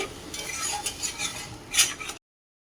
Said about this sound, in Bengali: মশলাটা এই যে হালকা নাড়াচাড়া করে নিচ্ছি এখন দিয়ে দিচ্ছি যে নারকেল আর টমেটো এইটা ভালো করে কষে নিতে হবে